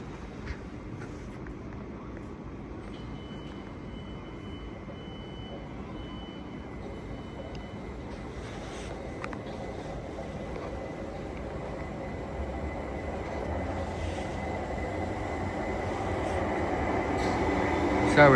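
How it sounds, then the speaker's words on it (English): A Southeastern service from London Charing Cross to Hastings sits at a London terminus, a low steady rumble and faint hum building gradually louder toward the end, with distant station ambience. "the 1624 South Eastern service from London Charing Cross to Hastings"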